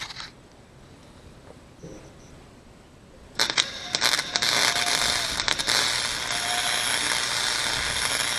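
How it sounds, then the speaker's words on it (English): A cracked nut on a sailboat fitting is welded, with quiet handling at first and then a sudden loud, continuous crackling sizzle with sharp pops, close up. "I've decided just to re-weld it"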